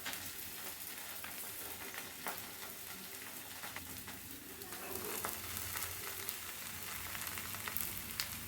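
A masala roti made with soya beans, oats and fenugreek leaves fries in a little oil on a pan over a medium flame. It gives a steady, close sizzle with soft crackles throughout.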